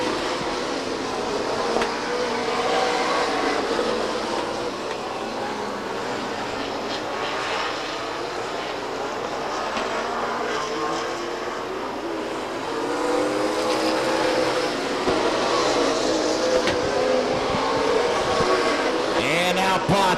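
Stock cars race around Stockton 99 Speedway in a dense, continuous roar of many engines, with crowd and track ambience and a faint announcer voice beneath.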